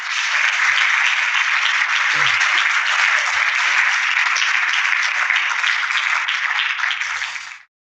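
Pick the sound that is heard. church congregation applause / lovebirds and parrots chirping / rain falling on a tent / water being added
church congregation applause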